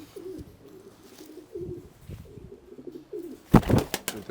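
Breeding pigeon giving low, soft coos in a loft, followed by a brief loud flutter or handling burst near the end, close and otherwise quiet.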